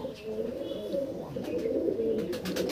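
Anari pigeons coo in low, rolling calls that overlap continuously at close range, with a few sharp clicks and rustles toward the end. No speech is heard.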